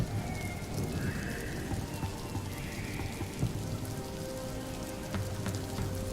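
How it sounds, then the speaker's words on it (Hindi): Steady rain falls throughout, a dense continuous patter on surfaces at moderate level with a faint whistling tone drifting above it, and nobody speaks. "अरे बारिश बढ़ती जा रही है, ठंड भी लग रही है।"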